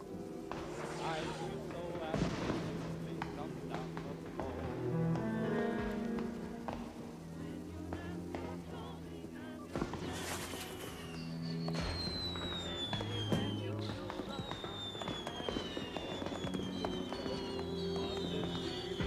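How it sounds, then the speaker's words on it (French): Fireworks crackle and pop intermittently over a dense background of music and talking voices, with some whistling streaks rising and falling. "Les feux d'artifice me fascinent."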